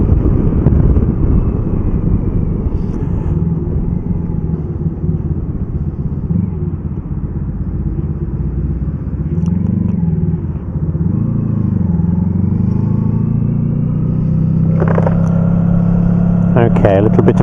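A motorcycle rides slowly through a U-turn, its engine giving a steady mid-pitched drone that dips and rises with the throttle, over constant wind buffeting on the microphone.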